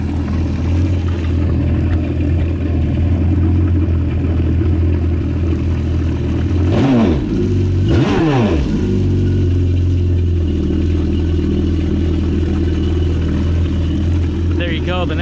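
A boat's engine idles with a steady, loud, throaty exhaust, and two sharp revs rise and fall midway through before it settles back to a rumbling idle.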